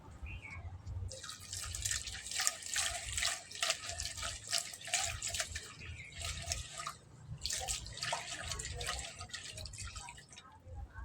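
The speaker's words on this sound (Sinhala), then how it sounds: "වතුර ටිකක් දාලා ලිපේ තියන්න." Water runs and splashes steadily into a cooking pot on a home stove for rice, a continuous close pouring hiss with a low rumble underneath, and no voices.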